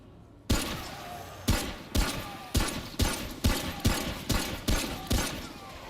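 Pistol shots in Remnant: From The Ashes video game ring out one at a time, nine or ten sharp loud reports at a steady rhythm of roughly two per second, each with a short decaying tail.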